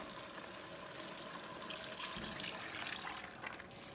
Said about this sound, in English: So go ahead and get the water in.